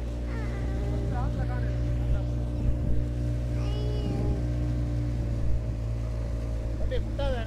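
A boat engine drones with a low, steady hum while moving over water, with faint voices and splashing nearby.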